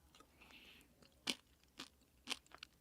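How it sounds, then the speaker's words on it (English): Crunchy Huel instant noodles being chewed close up, with several sharp, distinct crunches spaced apart against a quiet background. "think if these noodles weren't crunchy, this would be really good"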